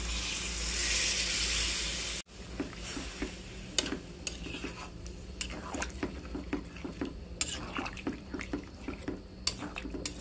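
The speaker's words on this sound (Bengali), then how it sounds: "কষিয়ে নিলাম, দিয়ে দিব এখন জল।" Water poured into a pan of colorful vegetables with prawns, masala-fried, gives a loud hissing rush that cuts off abruptly, then softer steady sizzling with scattered crackles and pops continues alone, close up.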